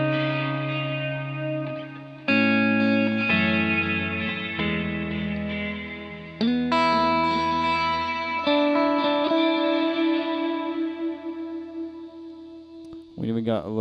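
A guitar plays through the dual reverb setting of an Eventide Space pedal, with chords ringing out into lush, swirling reverb tails and a hint of delay, each strum washing into the next at steady volume.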